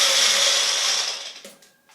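A Bullet-style blender whirs loudly as it blends juice ingredients, a bright steady grinding that fades and cuts out after about a second and a half, followed by faint clicks.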